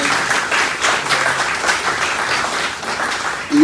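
Audience applause at a live décima poetry event broadcast, a dense steady roar of many clapping hands from a sizable crowd, continuous and fairly loud throughout.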